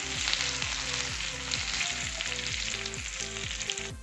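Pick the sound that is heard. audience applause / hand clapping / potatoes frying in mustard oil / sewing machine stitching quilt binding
potatoes frying in mustard oil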